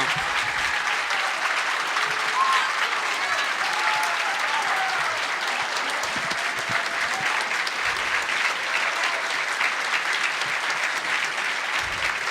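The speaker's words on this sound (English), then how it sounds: "So one more round of applause for them." Audience applause at a pony fan convention's closing ceremony (EverFree Northwest 2017), a dense, steady roar of clapping from a large crowd lasting throughout without pause.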